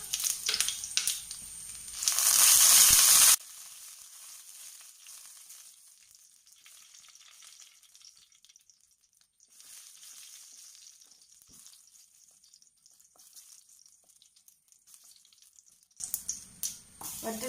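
Two dried red chilies fry in hot oil just after mustard seeds have popped, a bright crackling sizzle that flares loudly for a moment, then settles into a faint, steady hiss before stirring noises return.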